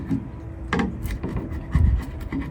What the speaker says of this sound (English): take a really sharp chisel or a razor blade and just scrape off the excess